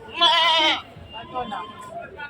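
A goat at a busy livestock market lets out a loud, wavering bleat up close, followed by people talking amid the market bustle.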